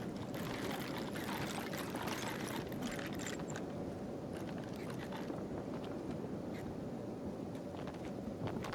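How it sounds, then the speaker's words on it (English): Acid rain pouring down in the video game Kenshi, a dense, steady rushing wash of rainfall with a low rumble, continuous and fairly faint, with no voices. "acid was still pouring from the sky"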